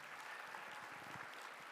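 Gala audience at the Utah Business Living Color event applauds in a steady, even patter of clapping, faint and distant throughout the short stretch.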